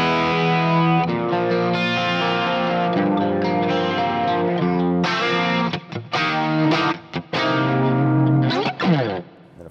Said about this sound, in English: I've also got a chorus sound.